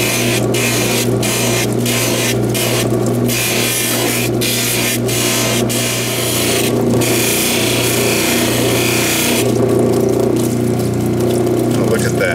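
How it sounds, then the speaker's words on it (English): Lapidary grinding wheel shaping a stone cabochon, a constant loud machine hum and whir with the stone moved back and forth across the wheel, close up under intermittent talking. "you want to move back and forth across your wheel so you don't wear it out"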